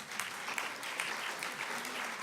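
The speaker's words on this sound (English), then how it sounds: "You can applaud that." An audience at a talk breaks into applause. Steady, even clapping sounds somewhat distant and subdued, with no voices over it.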